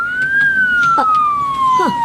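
A police siren wails loudly and steadily close by, its pitch gliding slowly up and then down, with faint voices underneath.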